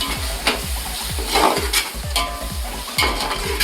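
Spoon stirring yogurt into a mutton biryani mixture with spices, rhythmic repeated scraping strokes about every half second, close and steady with a soft sizzle underneath.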